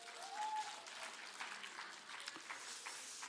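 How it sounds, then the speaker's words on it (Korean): Congregation applause in a church, a soft, distant wash of clapping that stays fairly even for a few seconds. "박수 한번 하겠습니다."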